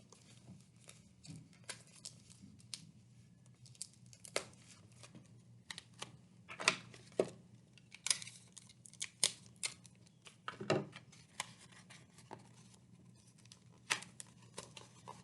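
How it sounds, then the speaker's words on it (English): Tape being pulled and pressed onto a paper dog mask, a quiet run of close crinkles, rustles and short sticky rips scattered irregularly over a low steady hum. "I'm going to use tape to secure it."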